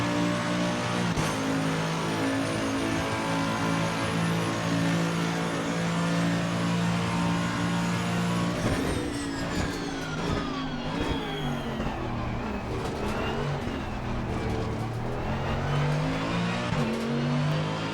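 A Mercedes-AMG GT3 Evo race car in a racing game at Monza, its engine roaring loud and steady throughout, with gear shifts and rising, falling revs as it accelerates, alone without talk.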